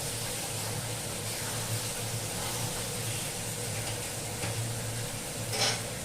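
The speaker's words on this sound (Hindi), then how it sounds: "आलू की चिप्स चढ़ी है" Potato chips frying in a home kitchen pan, a steady continuous sizzle with faint stirring clinks over a low hum, fairly close and even in level throughout.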